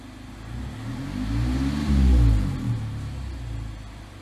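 A Mazda ND2 MX-5 Miata with a Cobalt axle-back exhaust revs up to around 3,000 rpm, a deep, booming exhaust rumble rising and swelling to a peak then easing back, close and loud.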